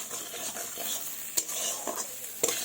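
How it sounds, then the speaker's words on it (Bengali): Sugar stirred into a jujube (kul) chutney in a pan: a steady close stirring with a soft sizzle and a few sharp spoon-against-pan clinks, no talk. "এবার ভালোভাবে নাড়াচাড়া করব।"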